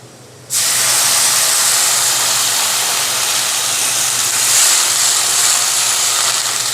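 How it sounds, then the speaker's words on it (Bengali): A splash of water hits a hot pan of fried onions and bursts into a loud, sustained steam hiss that starts abruptly and holds steady, with cooking prawns and vegetables on the way. "পেঁয়াজটা আমার ভাজা হয়ে গিয়েছে। এখন আমি দিয়ে দিব একটু পানি।"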